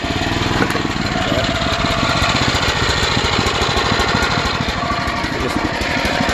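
A small air conditioning APU engine on a ten-car hauler runs after a pull start, a loud, steady, fast-chattering small-engine drone that holds unbroken close up throughout.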